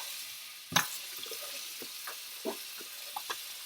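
Tap water runs into a kitchen sink during rinsing, a faint, steady wash of water broken by a sharp splash early on and a few softer spatters.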